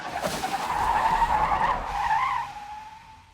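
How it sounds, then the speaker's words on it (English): A car's tires skid loudly as it strikes a deer on a road leading to a country house, the screech rising sharply, holding for about two seconds, then fading out with no voices present. "On the road to the house of the Armitage, a deer got hit by a car"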